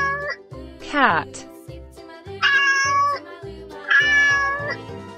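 A cat meows several times, short rising cries and two longer drawn meows, set against a cheerful children's music backing.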